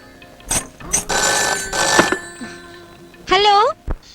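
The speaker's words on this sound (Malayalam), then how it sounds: "ഫോൺ എടുക്ക്." A telephone bell rings in bursts in an indoor domestic scene, with harmonic ringing tones sounding loud and close amid brief movement noises and voices.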